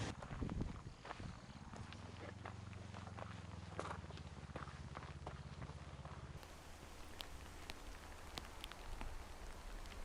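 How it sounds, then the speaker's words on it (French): Steady outdoor rain patters on surfaces at the battlefield site of Sekigahara in Japan, a continuous hiss with scattered nearby drips, a low hum running underneath for the first part, no talking. "aujourd'hui on n'a pas beaucoup de chance avec le temps parce qu'il pleut"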